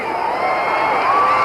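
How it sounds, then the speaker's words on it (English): A dense arena crowd at a heavyweight boxing bout between Muhammad Ali and Buster Mathis roars and cheers loudly and continuously as a punch lands, a sustained swell of voices. "Crowd got excited about that left thrown by Mathis"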